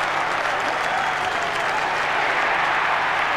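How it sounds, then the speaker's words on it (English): Steady roar of a large football crowd cheering and applauding after a Richmond goal against Carlton in a 1994 AFL match, loud and unbroken for the whole stretch. "something for their fans to cheer about"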